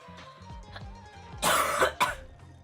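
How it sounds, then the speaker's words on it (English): A few harsh coughs burst out close by over a faint background melody, followed by one more short cough. "Apologies for the coughing."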